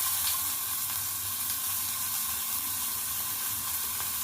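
Finely chopped onions frying in a pan for Maggi masala noodles, giving a steady, soft sizzle and hiss with faint stirring scrapes, alone and unbroken throughout.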